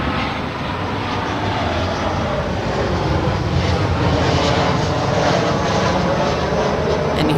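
A Southwest Airlines Boeing 737-700 at LAX, arriving from Las Vegas, gives a steady, loud jet roar that holds evenly throughout without a break.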